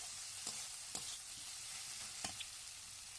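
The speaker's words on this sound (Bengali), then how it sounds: "এবার আমি আবারও এটাকে ভালো করে নেড়ে নেব" Boiled potatoes and banana stem being stirred in a pan, a faint steady sizzle with a few soft scraping strokes spaced through it, no voices.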